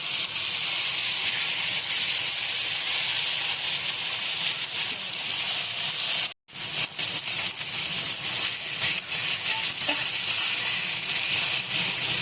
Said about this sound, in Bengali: তেল গরম হয়ে গেলে আমরা একটা একটা করে এইভাবে চিকেনগুলো কড়াইয়ের মধ্যে ছেড়ে দেবো।